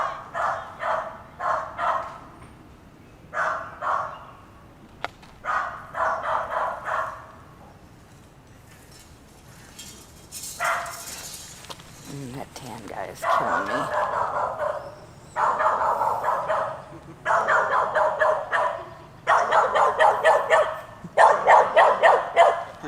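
Several dogs kept at a drug house bark in repeated loud bursts, close by, with short pauses between volleys, while people talk in between.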